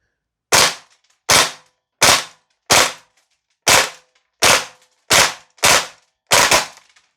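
VFC Umarex HK UMP .45 gas blowback airsoft rifle on propane with 0.25 g BBs firing 2-round bursts: nine sharp, loud, close cracks spaced about a second apart, with no talk.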